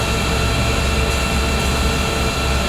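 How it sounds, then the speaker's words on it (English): The Westlake landfill with an underground fire burning: a loud, steady, dense roar like a heavy engine or rushing air, broadband and unbroken throughout, with no voices. "That is the sound of the Westlake landfill"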